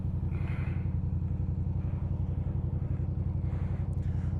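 A motorcycle rolls past on the road, its engine a steady low rumble with a few brief swells as it goes by, moderately close, heard alone without talk.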